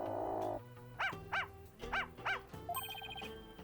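A dog in the video game Spirit of Justice barks four times in an evenly spaced sequence, clear and fairly close, followed by a short electronic chime, with no talking over it.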